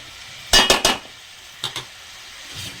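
A metal lid goes onto a cooking pot of broad bean curry in oil, giving three quick close clanks, then two lighter knocks and a faint final tap.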